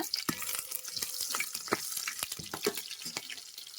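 Green chilies and rice frying in a pan for coconut-milk mushroom bath, giving a steady close sizzle with scattered stirring scrapes and clicks and no talk.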